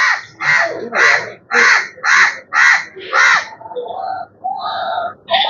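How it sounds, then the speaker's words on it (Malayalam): A crow caws loudly and close by at a resort in Poovar, Kerala, in the morning: seven harsh calls in a steady rhythm, followed by a few softer, higher caws. "ഇവിടെ കാക്കയുടെ ശബ്ദം കേൾക്കുന്നുണ്ടല്ലോ"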